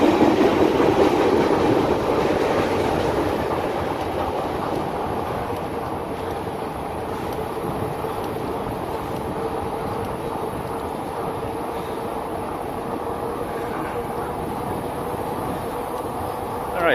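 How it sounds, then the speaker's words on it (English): A train rolls past outdoors at dusk during a ride along, a steady loud rumble with rail clatter and wind noise that eases slightly after the first few seconds and then holds continuously. "Got the train coming by."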